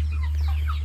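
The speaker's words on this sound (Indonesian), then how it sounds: "Ni ayam Afrika." A brief, close cluck from an African chicken, a white-feathered bird with black eyes and black skin and flesh, over a steady low hum.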